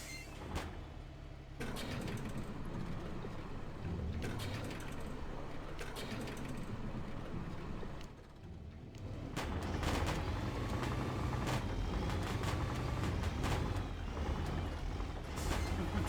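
Heavy truck engine in the off-road driving game MudRunner, a steady loud mechanical rumble that swells louder partway through, with hissing air-brake bursts and clanking.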